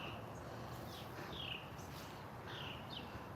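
Outdoors, a few birds chirp faintly in short, high, scattered calls at a distance over a constant background hiss.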